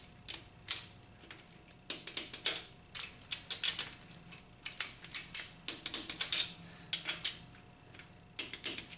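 Torque wrench tightening the starter bolts on a 2.4L Honda Accord, a series of close, sharp ratcheting clicks in short bursts separated by brief pauses.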